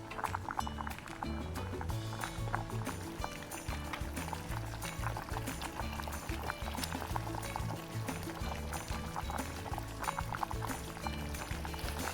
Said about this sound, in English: Now we're going to add cornstarch diluted in water to thicken the sauce.